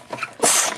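A single sharp human sneeze, a short breathy intake followed by a loud close burst of air.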